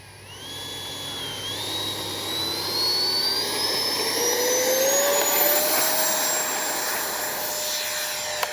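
An FMS Rafale 80mm electric ducted-fan RC jet spools up for takeoff, its whine climbing steadily in pitch and loudness as it accelerates and lifts away, with no talking.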